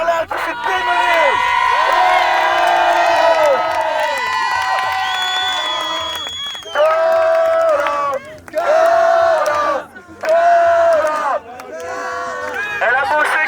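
A loud crowd cheers and whoops for Carla on the reality show Koh Leucate, with excited shouting voices in surging bursts that drop out briefly and return.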